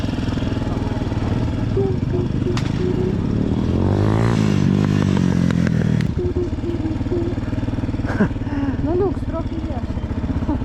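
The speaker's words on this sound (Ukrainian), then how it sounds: "О, нормальні мотоцики, японці." Japanese motorcycle engines idle and rev nearby at a motorcyclists' gathering with a steady low drone and a rising-falling sweep, people talking over the mechanical rumble.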